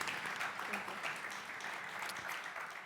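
Audience clapping, fairly quiet and steady, a continuous patter of many hands heard from some distance with faint voices mixed in.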